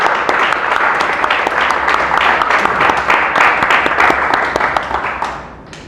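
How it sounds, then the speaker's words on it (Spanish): A church congregation bursts into loud, close applause, many hands clapping in a dense, sharp patter that carries strongly before fading away at the end. "Denle un fuerte aplauso a Dios."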